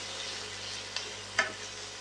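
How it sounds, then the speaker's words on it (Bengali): Chopped chickpea greens fry in a pan with a steady, soft sizzle, broken by a couple of light scraping stirs near the end. "কেটে রাখা যে ছোলা শাকগুলো আছে সেগুলোকে ঢেলে দিলাম"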